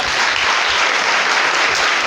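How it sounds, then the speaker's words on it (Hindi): Audience at a student award ceremony gives a burst of dense, loud, continuous applause, with no pause for the whole short stretch. "निधि के लिए भी जोरदार तालियां हो जाए।"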